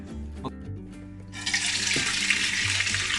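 Homemade wine is strained and poured in a steady rushing stream after a few clinks and small taps, close and fairly loud.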